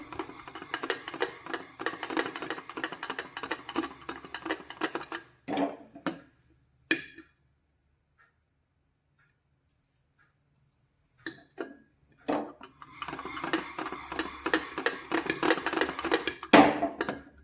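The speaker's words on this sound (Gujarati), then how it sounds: "અંદરથી ફૂટવાનો અવાજ પણ આવવા લાગ્યો છે" Irregular small pops and ticks rattle as chickpeas roast without sand inside a pressure cooker, a dense crackling burst, then near silence for several seconds before the popping resumes just as busily.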